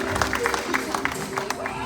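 Steady applause from a theme park audience at Dreamworld, cheering a jumping animal during a live show, with dense clapping spread evenly throughout and a voice faintly audible underneath.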